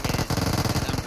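Rapid Uzi fire in the battle royale PUBG Mobile during a tournament match, a tight fast stream of shots in quick bursts, loud and close.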